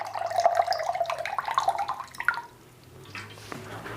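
Water pours from a container into a plant pot, a bright splashing trickle for about two seconds before it stops and leaves quiet, soft handling noises.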